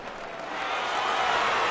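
A stadium crowd of fans in the MLB The Show 18 baseball game cheers, a broad roar swelling steadily louder over less than two seconds.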